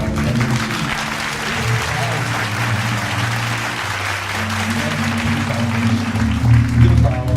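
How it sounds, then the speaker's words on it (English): Audience applause fills the room with dense, steady clapping for several seconds, swelling slightly near the end, while voices carry on underneath. "Y'all give her a round of applause."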